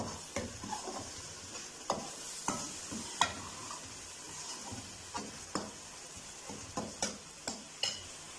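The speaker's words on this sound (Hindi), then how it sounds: "1 मिनट के लिए मसालों को भून लेंगे" Spices sizzle in a hot pan while a spoon scrapes and stirs through them in regular strokes, with faint clinks against the metal.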